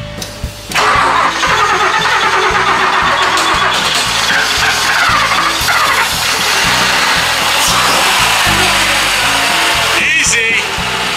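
A 1966 Mercedes-Benz 600 Grosser luxury sedan needing a tune-up cranks briefly and fires into a loud, rough, pulsing engine run that holds steady close by for about ten seconds, with faint voices near the end.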